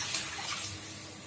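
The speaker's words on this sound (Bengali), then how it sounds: "আর এর মধ্যে এরপর আরেকটু জল মিশিয়ে দিতে হবে।" Water pours into a bowl of tamarind pulp for a sour hilsa fish dish, a short soft splashing trickle, quiet and close.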